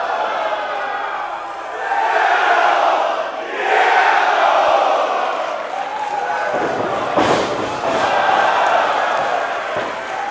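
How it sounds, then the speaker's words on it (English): A pro wrestling crowd chants "Zero Miedo" in loud, rolling waves that swell and fade across the arena, broken by a sharp thud from the ring partway through. "The crowd chanting "Zero Miedo.""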